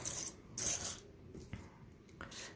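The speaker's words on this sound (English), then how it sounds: "that automatically happens when I run that through my Stampin' Cut and Emboss machine" A Stampin' Cut and Emboss die-cutting machine runs alone nearby, giving a few mechanical ratcheting, gear-like clicks and grinding bursts in uneven spurts with short pauses between.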